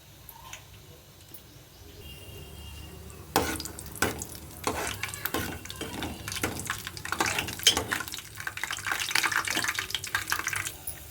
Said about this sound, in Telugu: ఆయిల్ కాగిందండి ఫస్ట్ నేను పల్లీలు వేసేస్తున్నాను